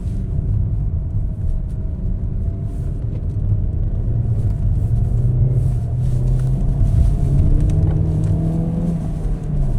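An Alfa Romeo 147 engine drones steadily from inside the cabin while the car drives along, a continuous low rumble that swells slightly under light acceleration, with no talk over it.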